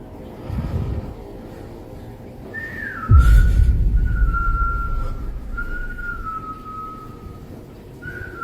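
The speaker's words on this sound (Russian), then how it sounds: "Посреди ночи в гостиной слышен свист" A thin, wavering whistle sounds in a living room at night, one sustained tone that slides and then repeats in several drawn-out phrases over a dull low rumble, with a sudden thump near the start of the whistling.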